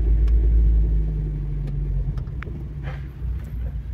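A car slowly manoeuvres at the Circuit Historique de Laon, its engine a close, steady low rumble that swells briefly, with a few faint clicks and background noises around it.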